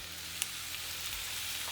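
Soy sauce hitting a hot pan of pork and egg fried rice gives a steady, close sizzle and fry with faint stirring, no voices.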